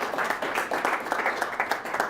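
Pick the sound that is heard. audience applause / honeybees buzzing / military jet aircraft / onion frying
audience applause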